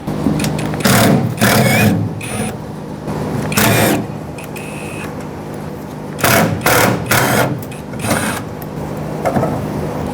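A power driver backs out 7mm screws on the fuel filler neck of a 2011-2016 Ford F-350 6.2L V8, giving several loud, short whirring bursts separated by pauses and close to the listener.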